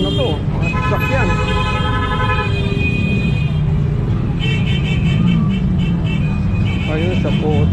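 Busy roadway packed with cars, a steady roar of passing traffic with repeated car horn toots and honks, people talking over the noise throughout.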